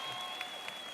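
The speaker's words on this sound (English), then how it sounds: "Let's give them another round of applause" Applause for a high school JROTC color guard at a school district convocation: a brief, dense burst of crowd clapping in a large hall, steady and moderately distant.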